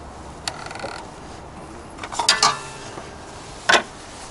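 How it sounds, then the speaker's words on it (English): A ClearSource water filter housing on an RV drinking water system is snugged down with a filter wrench, giving a few short plastic creaks and clicks, close and fairly quiet, with one sharper click near the end. "you're just going to take the filter wrench and give it a little snug"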